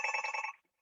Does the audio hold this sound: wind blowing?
no